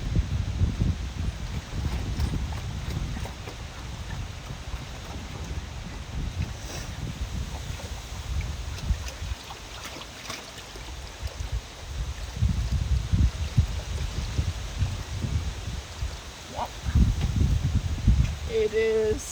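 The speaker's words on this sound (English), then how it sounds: "It is so windy that I actually, for a matter of fact, think that it's not good for the plants." Strong wind gusting outdoors in a garden, buffeting the microphone with loud low rumbling bursts that swell and ease throughout, no clear voices over it.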